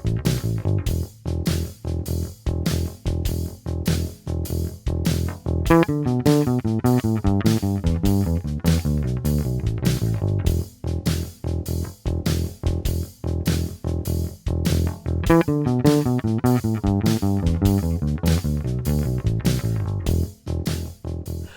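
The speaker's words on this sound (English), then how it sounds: "So what you've just heard there is a simple 2-bar bluesy bass line" A bass guitar pulses in a steady, repeating two-bar groove, punchy and close, with short notes and brief gaps looping through a bluesy pattern.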